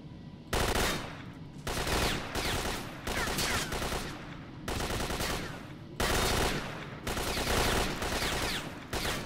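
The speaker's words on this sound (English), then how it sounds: "This is a really bad shootout." Rapid automatic gunfire bursts in a night shootout in the S.T.A.L.K.E.R. video game, loud repeated volleys separated by brief pauses, with no talking.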